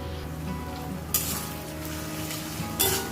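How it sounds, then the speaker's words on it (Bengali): Onions and green chilies frying in hot oil in a kadai, a steady quiet sizzle with a couple of brief louder crackling bursts as the pieces are stirred, no voices. "কড়াইতে তেল গরম করে পেঁয়াজ লঙ্কা দিয়ে দিয়েছি, এখন এগুলোকে ভাজবো।"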